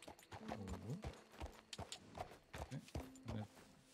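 Horse hooves clip-clop at a run in the Red Dead Redemption 2 video game, a quick, uneven rhythm of close thuds with faint snorting tones between them.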